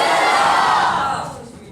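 A big crowd of schoolchildren at a government high school in Lahore shouts a slogan in unison, one loud massed burst that fades quickly.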